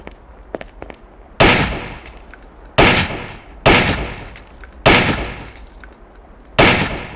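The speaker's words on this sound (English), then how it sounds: "Switch to the pistol and practice hitting the short-range targets." Pistol shots at short-range targets in a training-range video game, five loud sharp reports spaced about a second apart, each with a ringing decay, preceded by faint small clicks.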